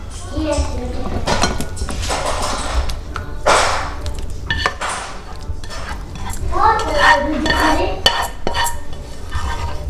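Clinking and scraping of a spoon against a metal pot as cooked chickpeas are scooped into a serving dish, with someone talking in Hindi over the clatter.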